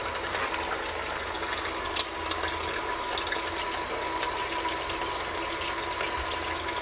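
A sump pump runs in a basement pit, pumping water with a steady splashing, gurgling rush and rattling mechanical clicks, close and continuous.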